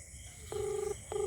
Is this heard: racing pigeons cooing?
no